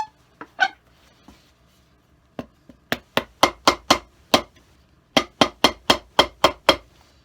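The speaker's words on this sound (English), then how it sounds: "we'll go ahead and nail it from the inside" Sharp hammer blows drive nails into a shoe sole from the inside, a few scattered taps at first, then quick close runs of ringing strikes with short pauses between.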